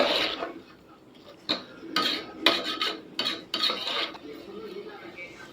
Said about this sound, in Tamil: தயிரை நல்லா மசாலா கூட எல்லாத்துலேயும் நல்லா மிக்ஸ் ஆகணும் அந்தளவுக்கு நல்லா பரட்டி விட்டுக்கோங்க